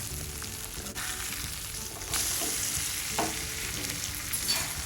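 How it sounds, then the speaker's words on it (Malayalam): Fish fries in a pan over a high flame with a loud, continuous hissing sizzle up close, a few soft scrapes and taps of turning scattered through, and no voices. "അപ്പം ഹൈ ഫ്ലെയിമിൽ വെച്ചിട്ട് തന്നെ 2 വശവും ഒന്ന് നന്നായിട്ട് കുക്ക് ചെയ്തിട്ട് എടുക്കാം നമുക്കിത്"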